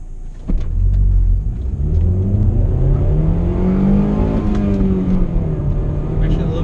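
A 2005 Chevrolet Cobalt with a manual gearbox pulls away hard from a standstill, its engine roaring loudly from inside the cabin and rising in pitch through the gears.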